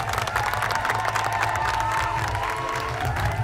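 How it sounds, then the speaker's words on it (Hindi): A studio audience at a Pakistani TV talk show applauds, with dense clapping mixed with cheers and crowd noise, steady and fairly loud throughout. "इसके लिए तालियां"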